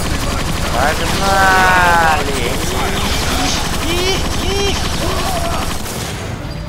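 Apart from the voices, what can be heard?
Perforator gun firing in video game Transformers: Fall of Cybertron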